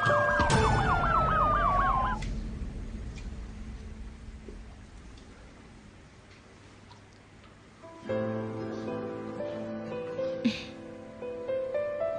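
An ambulance siren wails loudly with a sweeping tone for about two seconds, then fades into a quieter background as the scene continues in a Hindi-dubbed drama.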